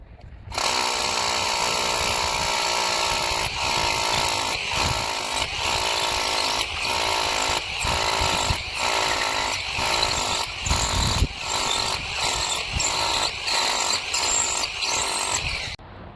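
A power drill whines steadily at close range, its high-pitched motor tone briefly dipping every second or so as the bit bores into material.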